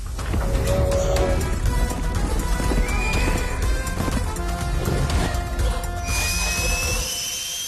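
A horse neighs and gallops in a Telugu film's hero introduction scene, with loud, steady hoofbeats and whinnies filling a dense, dramatic soundtrack, and rising whooshing tones sweeping in near the end.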